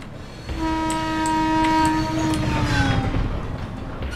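In the horror video game Thomas the Shank Engine, an approaching train sounds a long, loud multi-note horn that swells and bends slightly in pitch as rumbling engine noise builds beneath it, with no talking.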